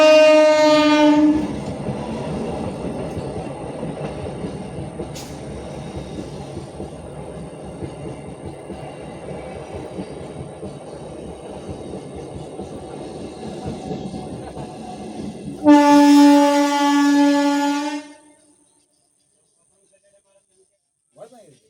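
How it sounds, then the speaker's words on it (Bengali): A train passes close by, opening with a loud horn blast, then a long steady rumble and clatter of wagons, before a second loud horn blast near the end as the sound fades away. "তুমি ট্রেন দেখলে?"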